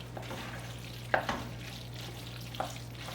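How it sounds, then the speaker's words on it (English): A spoon works through goulash with ketchup in a pot, giving a few scattered scrapes and knocks over a low, steady electrical hum, quiet and close, with no talking. "Stir it up good."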